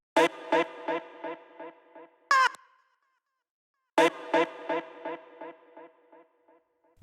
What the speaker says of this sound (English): we also did a really small automation, both the delay and the reverb